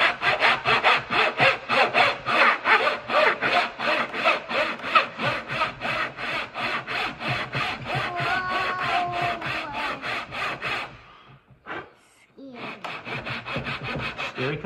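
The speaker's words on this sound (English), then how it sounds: "I got a little gent saw here." A small gent saw cuts a rabbet in plywood by hand with rapid, rhythmic back-and-forth rasping strokes, close and steady. The sawing pauses briefly near the end, then resumes.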